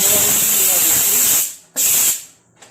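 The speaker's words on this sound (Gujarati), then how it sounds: "હવે આપણે ઢાંકણ બંધ કરી અને બે વિસલ કરી લઈશું" A pressure cooker cooking green val beans lets off a loud, steady steam hiss that cuts off, then one shorter sharp burst of hissing, with a faint puff at the end.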